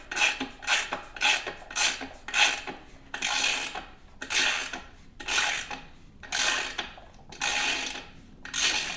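An Aries stud remover tightening down on a car stud on a Honda Civic, giving a repeated rasping, ratcheting scrape in steady strokes about once per second, close and clear without talk.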